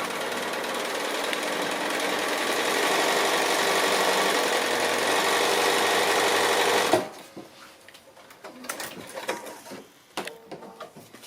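Sewing machine stitching a foundation-pieced quilt block, a steady close motor whir running for about seven seconds, then stopping into quieter handling rustles and clicks.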